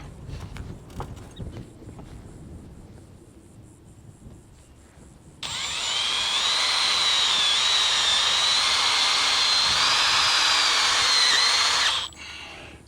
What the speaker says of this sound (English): we got to put 2 screws at the joint to hold those from sliding apart